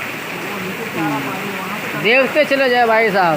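Heavy rain and fast-flowing water rushing along a street in Mohammed Nagar, Hyderabad, a constant loud roaring wash heard beneath someone speaking.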